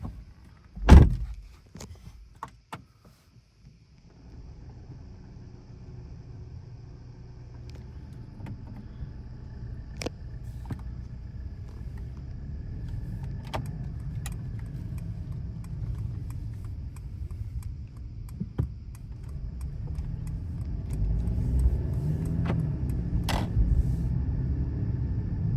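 A Mercedes C-Class door thumps shut inside a hotel garage in Geneva, followed by a few faint clicks and then a low, steady engine and road rumble building gradually as the car drives off.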